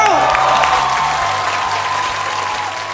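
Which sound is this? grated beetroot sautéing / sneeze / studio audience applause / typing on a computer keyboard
studio audience applause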